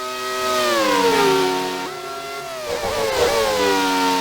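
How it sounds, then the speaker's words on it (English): A high-pitched Formula One engine in the racing game Grand Prix 2, at Monaco, revs and shifts gears, pitch rising and falling steadily, loud and close with no talking. "Amazing engine sound effects that you can hear."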